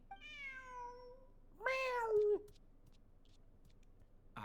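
Two meows from a cat in the Genshin Impact video game, a drawn-out higher call followed by a louder, shorter one, close and clear over a quiet background.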